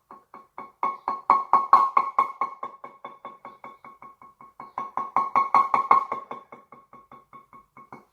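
A pan drum is struck in a quick steady pulse of ringing metallic tones, imitating a plane engine passing overhead: it swells louder and fades, then builds and fades again over eight seconds, alone without talk.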